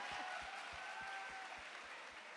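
An audience at a comedy event claps in a steady, rhythmic beat, faint and distant, with a soft crowd wash behind it.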